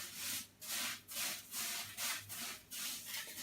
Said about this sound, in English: I'm just going to level the sand to be evenly spread in the tank.